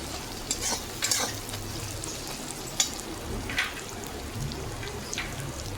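Garlic paste sizzles in a pan with softened tomato and onion, a steady quiet frying hiss broken by a few sharp spoon-stirring clicks and scrapes, with no talking.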